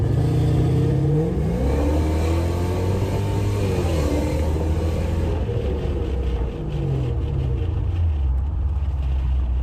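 Lexus LS430 fitted with a Flowmaster exhaust, engine revving and rising in pitch several times over a steady close rumble, with no talking.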